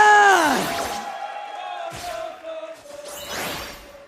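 An arena crowd roars and whoops at an MPL Indonesia Season 12 Mobile Legends esports match between RBL and BTR. Big surging cheers and long yells swell in waves, with a loud opening burst and a second rise near the end.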